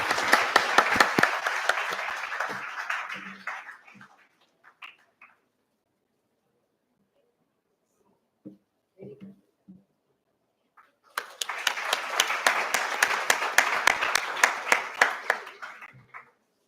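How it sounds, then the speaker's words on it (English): Warm audience applause at a corporate professional event, a dense burst of clapping for several seconds that fades to scattered claps, then a second full round of clapping rises again and continues steadily. "Can we have a round of applause for Sir?"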